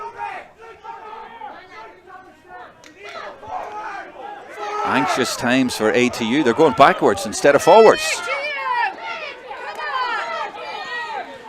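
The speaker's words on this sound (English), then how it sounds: "The crowd urging the men from the west to get forward" Crowd at a Gaelic football fresher final roars and shouts, swelling loudly midway as supporters urge their team forward, under continuous excited commentary.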